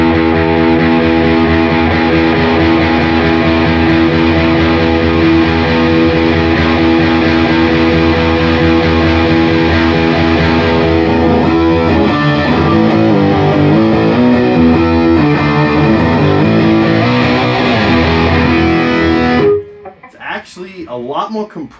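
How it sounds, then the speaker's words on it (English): Electric guitar played through a BOSS DS-1W Waza Craft distortion pedal in custom mode, a loud, thick, compressed distorted tone with sustained chords ringing steadily for about twenty seconds before cutting off into a few quieter picked notes. "So let's hear what that sounds like with the distortion."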